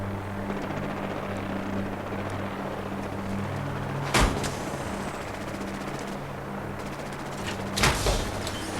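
Distant gunfire from the Brotherhood of Steel in Fallout 4, heard as a steady rumbling drone broken by two sharp, loud bursts several seconds apart.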